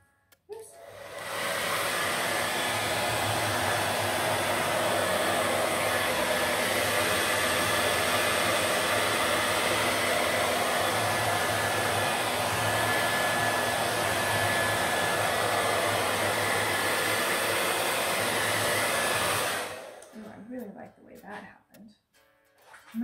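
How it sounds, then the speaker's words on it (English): A hair dryer blows liquid acrylic paint on a canvas steadily and loudly for nearly twenty seconds, a constant broadband whoosh, then cuts off, leaving brief faint rustling. "I'm going to go ahead and add the hot air and the hairdryer and blow this out"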